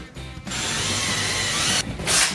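A power drill drilling up into ceiling joists whines steadily at close range for about two seconds, with a brief dip and a louder burst near the end.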